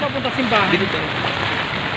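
Floodwater rushes through a street in Pasig during a typhoon, a steady dense wash of water noise with a voice speaking over it.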